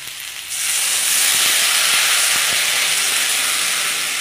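Water poured into a hot pan of half-fried vegetables and Mourala fish with green stems sets off a sudden loud hiss that swells in half a second and then holds as a steady, close sizzle.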